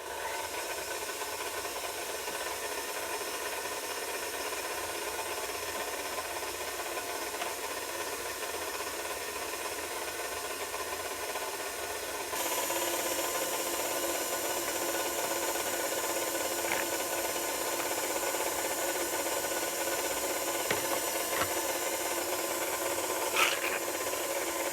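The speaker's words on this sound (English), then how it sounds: "And now let's get this first batch through the sieve." Cooked applesauce is worked through a sieve, producing a steady rubbing, rasping scrape that grows louder partway through and then continues evenly at close range, with no talking.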